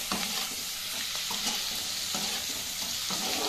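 Marinated chicken for chilli chicken stir-fries in a pan with a dense, close sizzle and repeated scraping strokes of a spatula.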